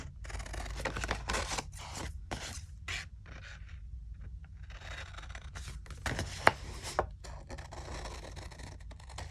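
Scissors snip through paper card in a series of short, uneven cuts, close and quiet, with pauses and a few sharper clicks between strokes.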